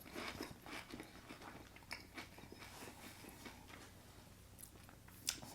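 Crunchy toast topped with fresh goat cheese being bitten and chewed close up, a run of soft crackling crunches spread over several seconds with no voices.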